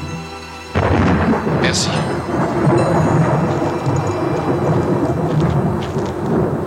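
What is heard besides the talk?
thunderstorm with thunder and rain in the mountains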